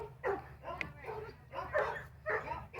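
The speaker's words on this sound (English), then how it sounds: "Oh boy, everybody's barking." Several dogs bark and yip in a home garden, a few close, rough barks spaced out with short whimpering notes between, against a low background hum.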